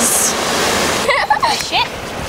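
Steady ocean breeze and surf wash over a beach house rooftop as a continuous hiss, with voices speaking and exclaiming on top of it partway through.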